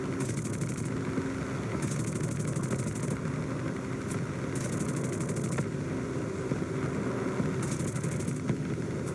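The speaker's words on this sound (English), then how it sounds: "Now we just have to juice up our engine" An aircraft engine revs in a combat flight video game, a steady, loud droning roar that runs throughout, with brief sharp bursts of higher noise repeating over it and no talking.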